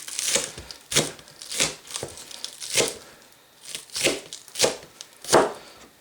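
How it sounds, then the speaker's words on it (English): Green onions being chopped with a knife on a cutting board for a grilled BBQ chicken quesadilla, about nine crisp, evenly spaced cuts sounding close and clear with no talking. "now we're going to go ahead and cut us up some green onions or scallions"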